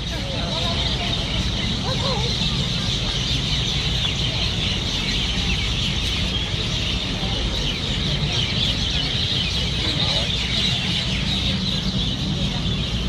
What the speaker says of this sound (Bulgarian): Това дърво е пълно с пилета.